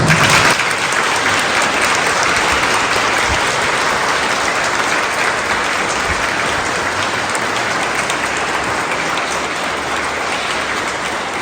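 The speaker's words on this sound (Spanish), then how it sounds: "Denles un aplauso." A church congregation at a ceremony of temporary religious vows breaks into sustained applause, a full, steady roar of clapping that carries on for over ten seconds and slowly eases slightly.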